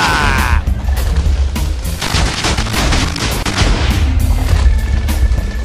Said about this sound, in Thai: ใครจุดระเบิดแล้วเนี่ย